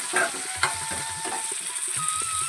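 Chopped capsicum fries in a pan while a spatula scrapes and stirs it, giving rhythmic clicking scrapes over a soft background sizzle.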